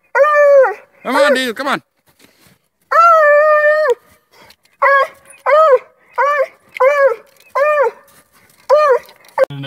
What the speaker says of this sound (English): a 7-month-old blue tick hot on a coonie coon trail